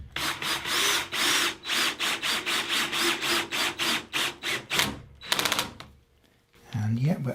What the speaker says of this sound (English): So there's our nice new hole, drilled at an angle, ready for our screw.